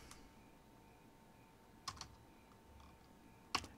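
Computer keyboard being typed on, a few faint, sparse key clicks including two brief clusters over a quiet room hum, with no talking.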